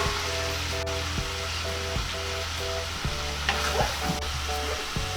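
Green beans (Baguio beans) frying with pork in a pan for ginisang beans, a steady loud sizzle with rhythmic scraping and stirring strokes roughly every second, without talk.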